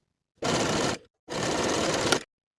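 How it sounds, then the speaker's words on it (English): Sewing machine stitching buttonholes in jersey knit fabric, running in two steady bursts of about half a second and a second with a short pause between, close and clear. "Now I'll sew both of my buttonholes."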